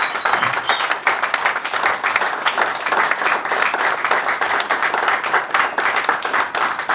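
A church congregation applauding and cheering, a loud, dense wash of many hands clapping steadily throughout, with crowd voices mixed in.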